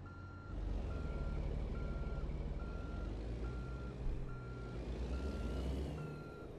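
A truck reverses in American Truck Simulator, its steady rhythmic reversing beeps sounding over a continuous low engine rumble, with a brief hiss near the middle, and no talking.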